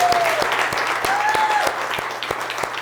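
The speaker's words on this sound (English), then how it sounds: "give a huge applause to my team" Audience applause for a team at a January real estate industry event, a steady dense clatter of clapping with a few sharp nearby claps and a voice briefly heard over it.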